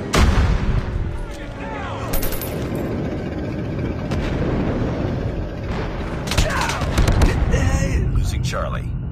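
Airstrike explosions in Call of Duty Mobile ground war multiplayer, heavy booms mixed with continuous gunfire and bursts of battle noise throughout, with a game voice announcer speaking over the combat.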